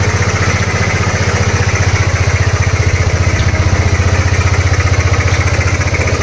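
Kymco Racing 150 scooter engine running after a refresh, a loud, steady, rapid pulsing idle heard up close and alone throughout.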